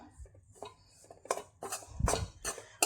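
Cooked rice being mixed into rice flour in a bowl with a spoon: soft, irregular scrapes and clinks against the bowl, close and fairly quiet, a few louder knocks near the end.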